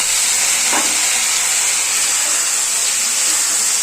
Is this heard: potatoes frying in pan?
yes